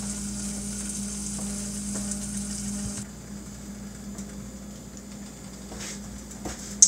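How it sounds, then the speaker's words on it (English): Food sizzles softly in a covered pan, a steady crackling hiss that grows quieter partway through, ending with a faint clink. "Just let it sizzle for a while."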